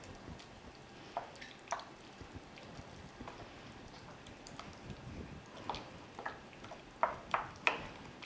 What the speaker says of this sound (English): let's give that all a stir to combine